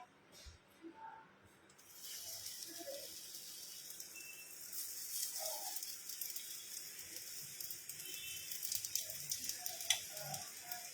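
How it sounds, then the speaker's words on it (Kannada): Bombs shallow frying in ghee on a chapati tawa give off a faint, steady sizzle and hiss, with soft clatters and a quiet voice in the background. "ಇವಾಗ ಇದನ್ನು ಚಪಾತಿ ತವ ಮೇಲೆ ತುಪ್ಪ ಹಾಕ್ಬಿಟ್ಟು ಜಸ್ಟ್ ಶಾಲೋ ಫ್ರೈ ಥರ"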